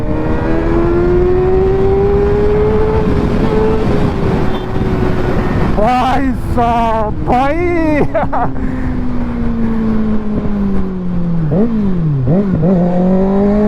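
A Kawasaki Ninja ZX6R engine accelerating hard in third gear: a loud, close, sustained drone whose pitch climbs, jumps and wavers through shifts. Someone talks over it at times.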